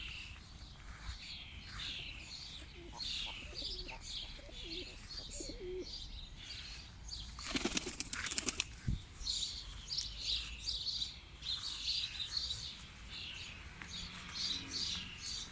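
Pigeons burst into a flurry of flapping wings as they take off, a loud rush midway through steady cooing and chirping from a flock nearby.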